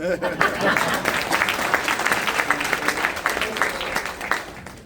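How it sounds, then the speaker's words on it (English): Audience applause at a ceremony during a motivational speech, a dense sustained wash of clapping lasting several seconds with a voice talking over it. "I want y'all to give y'all a round of applause"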